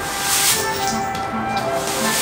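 Spray adhesive hisses steadily from a can onto cut pieces destined for fabric, a continuous close airy spray with slight pulses in intensity.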